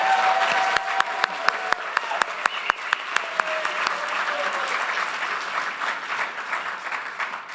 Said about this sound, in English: Let's give a big round of applause for all of our supplementary school winners.